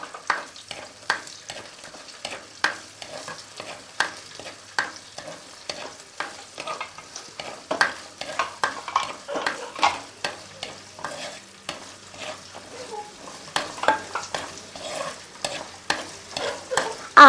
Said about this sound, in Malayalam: ഇഞ്ചി വെളുത്തുള്ളി അടപ്പത്ത് ഇട്ട് കൊടുക്കുന്നു.